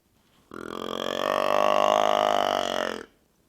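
A single drawn-out, deep guttural grunt lasting a few seconds, steady and close, with no other sounds around it; a person imitating a deer's tending grunt call.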